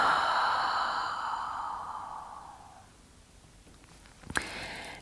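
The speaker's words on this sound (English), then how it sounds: "And then exhale." A long, deep breath out during a slow yoga stretch, a soft airy exhale that fades over a few seconds into quiet, ending with a faint rustle of movement.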